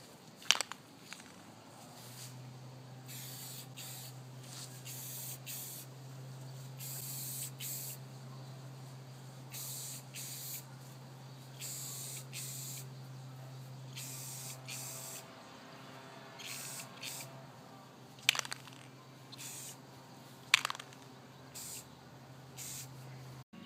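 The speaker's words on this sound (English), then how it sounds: "you're going to want to treat it just as if you're spray painting your forks or bars with normal paint" An aerosol spray can applies clear coat to bicycle forks and bars in a series of short, even hissing bursts, with quiet pauses and a steady low hum underneath.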